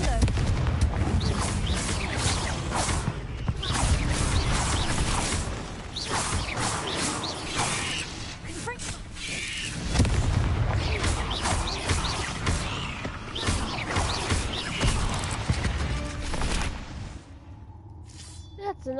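Confringo spell blasts in Hogwarts Legacy go off as a run of dense, loud bursts that crash and whoosh almost without a break, with speech heard over them before things fall quieter near the end.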